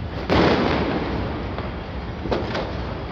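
Fireworks bursting over Dhaka rooftops on New Year's Eve: a broad, rumbling boom opens, followed by a sustained wash of crackle and a couple of sharper, more distant pops, with no voices.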